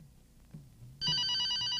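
A telephone bell starts ringing partway through, a loud, close, rapidly pulsing electronic trill after a quiet stretch with a faint voice.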